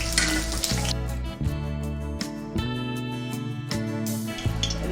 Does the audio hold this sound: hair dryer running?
no